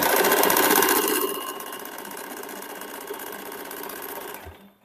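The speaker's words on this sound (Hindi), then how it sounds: "फिर इस प्रकार से धीरे धीरे 3 फोल्ड करते हुए इसका सिलाई कर लेंगे।" A sewing machine stitches a triple-folded fabric edge with a fast, loud mechanical whir that eases to a steadier, slightly quieter hum before stopping.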